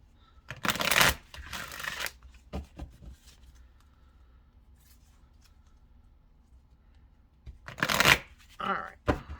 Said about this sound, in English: Easy to shuffle. They are glossy,